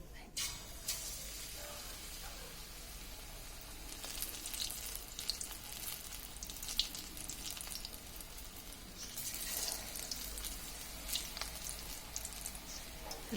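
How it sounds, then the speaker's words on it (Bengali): Whole capsicum peppers with stems dropped into hot oil for pakora, frying with a quiet, crackling sizzle that swells in bursts as pieces go in, with faint stirring. "এখন আমরা যে ক্যাপসিকাম যেটা আছে সেই ক্যাপসিকাম মরিচগুলো আমরা এখন ভেজে নেব।"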